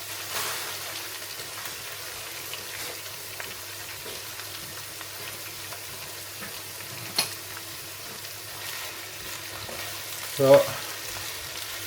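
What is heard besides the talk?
spinach sautéing in a pan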